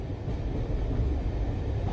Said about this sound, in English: We'll restart this so you can get the full train effect.